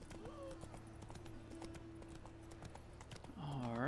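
Horse hooves clip-clop in The Witcher 3 as the horse trots through a town, a steady rhythmic clatter under game music, ending in a rising swell of sound.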